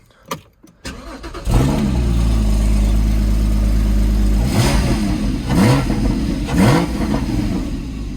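A manual-transmission car engine starts and settles into a loud, steady rumble, then revs up in three quick, rising bursts close by.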